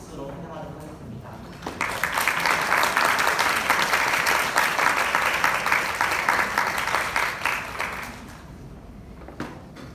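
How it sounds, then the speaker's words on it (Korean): Congregation at a Korean church worship service applauds to welcome a visiting pastor, a dense, sustained burst of clapping that swells after a short spoken lead-in and fades near the end, with a voice speaking before it begins. "저희 함께 박수로 환영하도록 하겠습니다"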